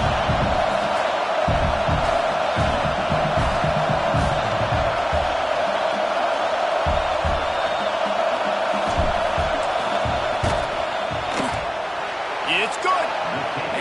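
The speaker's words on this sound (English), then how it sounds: "This crowd trying to do its part to get inside the kicker's head." A football stadium crowd roaring before a field goal kick, a loud sustained wall of cheering and noise with a commentator talking over it.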